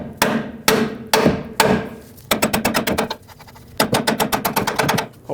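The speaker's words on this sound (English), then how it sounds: "I'm going to put this mounting nut on a little bit and use this as a tapping point" Hammer blows on a mounting nut to drive a bolt out of the front upper control arm on a 2015-2020 GMC Yukon: several slow, heavy metallic strikes, then fast rattling bursts of rapid blows, all loud and close.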